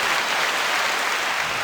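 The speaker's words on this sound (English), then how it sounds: "Manufactured applause." Canned applause plays as a brief studio sound effect, a dense, even wash of clapping lasting under two seconds at moderate volume with no voices over it.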